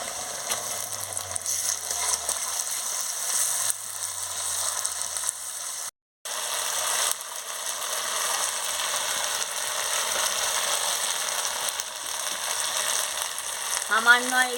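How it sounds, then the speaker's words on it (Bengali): Spice paste frying in oil in a pan for a chicken curry, a dense continuous sizzle with faint scraping and rattling, a brief cut partway through, then sizzling resumes, no voices. "ভাজা হয়ে গেছে, এবারে মশলার পেস্টটা দিয়ে দিচ্ছি।"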